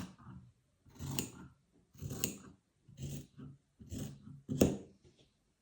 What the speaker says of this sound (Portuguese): antes nós vamos cortar o excesso de tecido da camisa